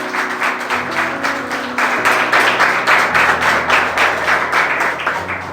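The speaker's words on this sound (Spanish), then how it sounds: "un aplauso al Señor por su palabra" A church congregation applauds to honour the Lord after a sermon, steady dense clapping with a sustained musical tone beneath it, continuing evenly through the whole stretch.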